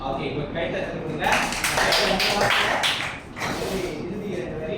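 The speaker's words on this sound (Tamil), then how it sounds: "ஓகே, கைத்தட்டல் கொடுங்க." A classroom group in a macro teaching session breaks into clapping for about two seconds, loud and close, over a background of ongoing talk that continues before and after.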